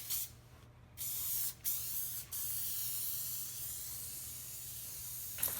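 Spray adhesive hisses from an aerosol can onto a fabric headliner for a Jeep JK, a steady close hiss running nearly the whole time with brief pauses between bursts.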